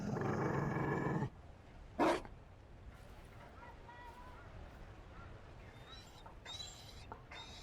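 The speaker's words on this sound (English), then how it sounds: "You found a dog." A Mabari war dog in Dragon Age: Inquisition gives a loud rough growl at the start and a short sharp burst shortly after, then fades to a quiet background.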